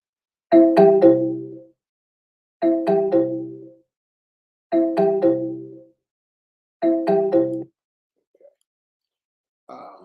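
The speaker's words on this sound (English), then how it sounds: "My staff is going to get the phone." A telephone rings four times in an even, repeating pattern with pauses between rings, loud and close, followed by a faint click.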